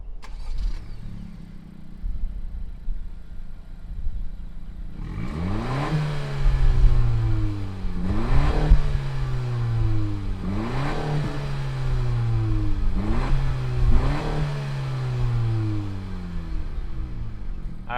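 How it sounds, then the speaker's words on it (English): A 2020 Honda Civic Si sedan engine cranks and catches after a quiet start, then climbs through four or five sharp revs that each fall back toward idle, close and loud with no talking. "let's go ahead, fire it up, and see what it sounds like"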